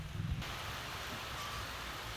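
Steady rain pours down outdoors in a continuous, even hiss, with a brief low knock near the start and no voices over it.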